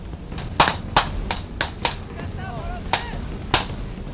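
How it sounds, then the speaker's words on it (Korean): Sharp, distant cracks of gunfire during night military training pop out one by one in an irregular rhythm, with a faint voice briefly audible between shots. "주위에서 막 총소리 들리니까"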